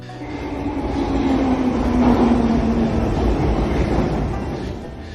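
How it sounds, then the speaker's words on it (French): A metro train rolls in loudly, its rumble swelling over a couple of seconds with a faint brake whine, then easing as it slows. "Le métro arrive avec un bruit fort."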